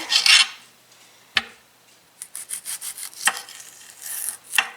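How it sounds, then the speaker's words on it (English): A knife slicing an onion on a cutting board, heard as a few separate crisp chops followed by a quick run of rhythmic rasping cuts, close and clear with no talking. "I'm going to start cutting my onion here"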